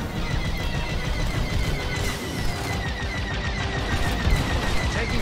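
Starfighter weapons fire in the Star Wars Squadrons space combat game: rapid, continuous laser bursts over a steady engine roar, loud and dense throughout with repeating chirping zaps.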